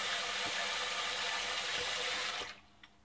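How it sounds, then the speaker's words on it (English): Cold tap water pours steadily into a pan to rinse red beans, a close, even hiss and splash that cuts off sharply near the end, leaving a brief faint drip. "I just got cold water, rinsing in them"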